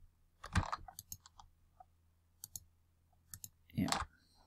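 Computer mouse clicks at a desk while working in 3D texturing software, a few sharp close taps in small clusters separated by near silence, with a couple of louder handling bumps.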